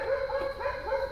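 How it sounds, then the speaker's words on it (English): Dogs bark and whine in the background, a few short wavering yelps in quick succession, moderately loud. "Excuse the noise, the dogs in the background."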